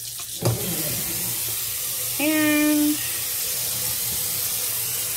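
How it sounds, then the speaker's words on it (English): Really hot water runs from a tap into a dye pot with a steady splashing hiss, after a short knock at the start. A brief tonal squeal from the faucet or pipes rises partway through, and a single spoken word is heard. "Let me fill this with really hot water."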